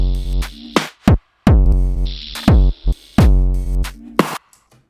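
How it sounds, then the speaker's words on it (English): Unprocessed drum break sample: punchy kick and snare hits with ringing cymbal wash in a loose repeating groove, loud and close with brief gaps between hits, no voices. "with this here, I took a drum break,"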